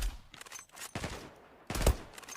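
Gunfire in the online shooter game Zula on the Kars map comes in several rapid bursts of close, loud shots separated by short pauses.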